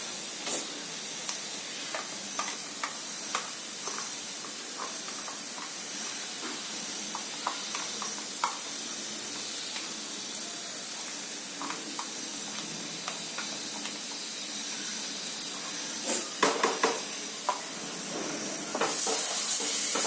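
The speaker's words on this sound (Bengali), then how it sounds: "নাড়িয়ে দেবেন অল্প করে, বেশি ভাজবেন না, নাহলে তিতো হয়ে যাবে" A mustard, poppy seed and green chilli paste fries in a pan for hilsa curry, giving a steady close sizzle and hiss with scattered scraping stirs throughout, no talking.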